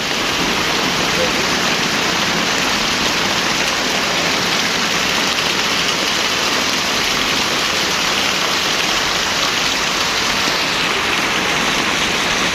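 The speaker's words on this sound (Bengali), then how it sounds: "এখানে প্রচণ্ড পরিমাণ বৃষ্টি হচ্ছে" Heavy rain in Chattogram, Bangladesh, pours down in a loud, steady roar that doesn't let up for the whole stretch.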